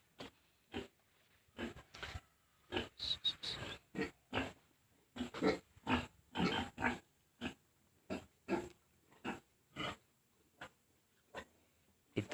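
A large piglet grunting in its uncleaned pen, a steady series of short, close grunts and snorts at a regular pace with soft breathy sounds between them.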